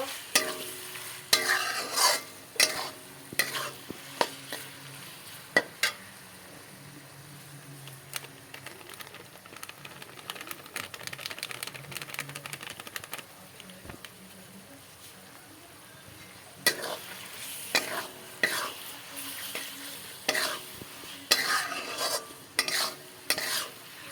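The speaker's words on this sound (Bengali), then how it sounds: "তারপর দেখো বন্ধুরা সব সবজি একসাথে মিশানো হয়ে গেল" Vegetables for chowmein being stir-fried in a pan, with repeated scraping and clattering stirs over a steady sizzle, loud and close, pausing briefly midway before the stirring resumes.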